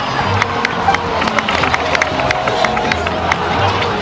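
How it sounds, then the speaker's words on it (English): A crowd in a fantasy video game cutscene claps and cheers loudly and continuously, a busy mix of scattered clapping, excited shouts and rustling murmur. "so please give another round of applause for them."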